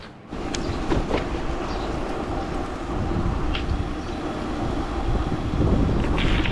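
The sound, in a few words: strong wind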